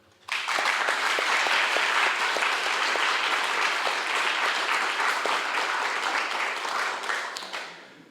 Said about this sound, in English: So a very big round of applause for everybody.